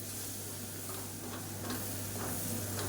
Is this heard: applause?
no